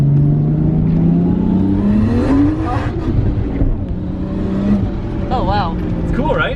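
An old right-hand-drive Japanese turbocharged drift car revs and accelerates on a wet surface, its engine note climbing steadily and loud up close, with people talking over it.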